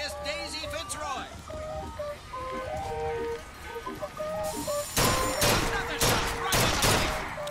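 Rifle shots at a carnival shooting gallery in BioShock Infinite, a flurry of sharp loud cracks in the second half that follows bright jingling gallery music and game chimes, with a voice talking earlier.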